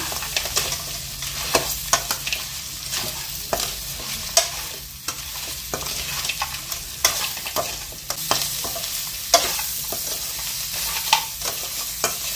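Crab curry cooking in a pan, stirred vigorously so the utensil scrapes and clacks against the metal over a constant close sizzle, with no voices.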